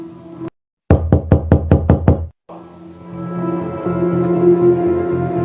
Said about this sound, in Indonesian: Aku lalu mendekati pintu itu dan mengetuknya.